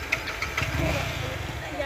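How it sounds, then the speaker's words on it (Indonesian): A motorcycle engine runs at a low, steady idle, rumbling close by beneath people talking. "jadi sekarang Mala yang mau bawa motor"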